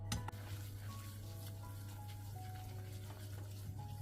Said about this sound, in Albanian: nuk duhet që ta skuqim shumë, mjafton sa të ndjejmë aromën e këndshme të miellit